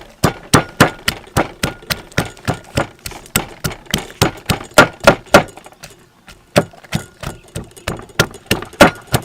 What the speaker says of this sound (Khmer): តាមយើងចាប់ផ្ដើមបុកខ្ទឹមសនិងម្ទេសហ៎